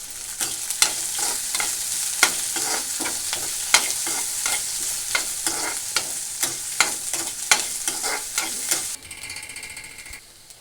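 Curry leaves fry in hot oil for ivy gourd curry, a bright close sizzle marked by steady rhythmic scrapes and taps of stirring, easing to a quieter hiss near the end.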